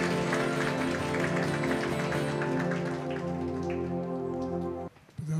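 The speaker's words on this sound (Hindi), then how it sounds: "तालियों के साथ स्वागत" Congregation at a church fellowship gathering claps steadily in welcome of an elderly senior brother, a dense, even patter of applause that fades and thins out near the end, with music tones underneath.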